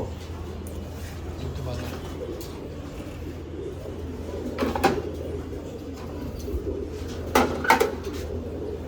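Pigeons cooing indoors in a loft, soft low murmuring coos running throughout with a couple of sharper bursts of fluttering or scuffling near the end, while someone talks over them.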